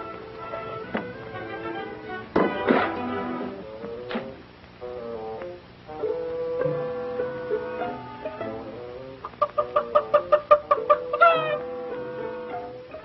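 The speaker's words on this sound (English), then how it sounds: "Oh, it's only a chicken." A chicken clucks inside a barn, with scattered clucks and squawks early on and a quick run of sharp, evenly spaced clucks near the end, fairly close and clear.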